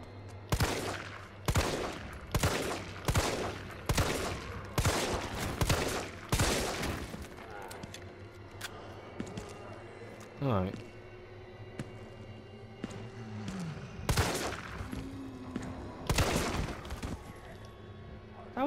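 Bursts of gunfire from a Resident Evil 3 Remake shootout, several rapid volleys in the first seven seconds and more later, with quieter gaps and faint movement sounds between them.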